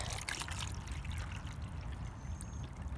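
Cold water poured by hand into a rabbit's water container outdoors, a faint continuous trickle and splash throughout, quiet and close.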